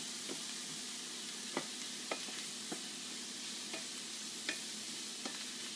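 Onions with a couple of pinches of oregano cooking in a pan for Chilean empanadas: a quiet, steady sizzle broken by several light clicks of a spoon stirring, close by with no voices.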